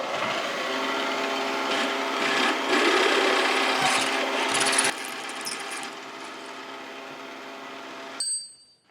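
A steady, grinding machining drone as a 7/8 inch bit bores a hole in metal on a Monarch 612 lathe, even and continuous for several seconds before cutting off abruptly near the end, with no talking.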